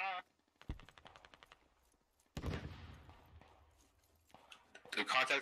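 Gunfire in the Squad video game, with rapid bursts of automatic fire and sharp single shots separated by quiet gaps, and a voice speaking in between.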